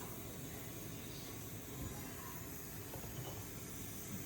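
Vegetables such as potato and radish hit hot mustard oil seasoned with mustard seeds and bay leaf for Bengali shukto, giving a steady, faint hiss that continues unbroken throughout.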